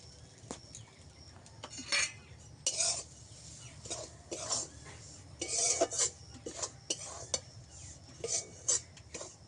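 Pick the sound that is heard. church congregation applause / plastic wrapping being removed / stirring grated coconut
stirring grated coconut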